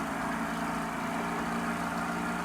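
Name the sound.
boat motor running in the video game Cast n Chill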